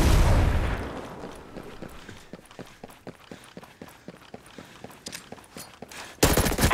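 Rapid gunfire in the video game Ghost Recon Breakpoint during PvP, a steady run of sharp, evenly spaced shots after a loud burst, ending in a heavy blast of noise.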